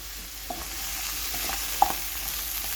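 Sausages, onions and apples frying together in a pan for devilled sausages, giving a soft, steady sizzle with light scattered clicks and scrapes of stirring, including one sharper tap.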